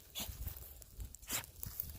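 A farm dog barks a few times in short bursts at a Texas farm with a Duroc pig pen, moderately close amid outdoor noise and rustling.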